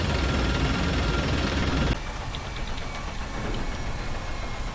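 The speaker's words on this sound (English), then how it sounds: "you can kind of hear a jet engine sound. That's because the Abrams is powered by a gas turbine engine" An M1 Abrams tank's gas turbine engine runs in the DCS Combined Arms combat simulator, giving a loud, steady, jet-like rumble and hiss that drops slightly in level partway through, with no talking.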